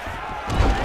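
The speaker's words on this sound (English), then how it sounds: "Big shot lands for both guys." Punches land in a UFC video game heavyweight bout, a short cluster of dull thuds and a heavier impact swelling near the end, heard under game commentary.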